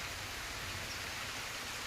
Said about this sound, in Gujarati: આમ જો વરસાદે ચાલુ થયો